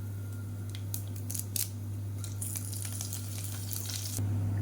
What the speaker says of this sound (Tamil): இப்போ எண்ணெய் நல்லா சூடாயிருச்சு சோம்பு பட்டை கிராம்பு ஏலக்காய் கல்பாசி நட்சத்திர சோம்பு எல்லாத்தையும் சேர்த்துக்கலாம்